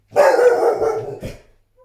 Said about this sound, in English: I do apologise for the dog.